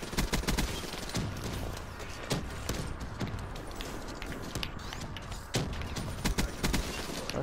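Shotgun and other gunfire in a shooter video game, fired in repeated sharp bursts over a busy, steady game soundscape, with no talk.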